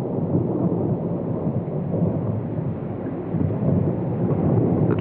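A thunderstorm with steady rain on the forested tropical islands around Truk Lagoon, a continuous rushing wash of rainfall with low rolling thunder swelling near the end, no voices.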